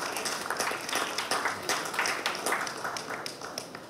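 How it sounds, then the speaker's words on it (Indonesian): Audience applause for Argentina at an Indonesian football event, a steady wash of many hands clapping with scattered sharper claps, moderately loud and continuous throughout. "Tepuk tangan buat Argentina."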